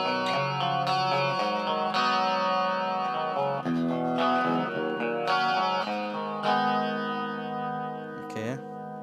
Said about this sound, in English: It's quite a thick, deep chorus sound now.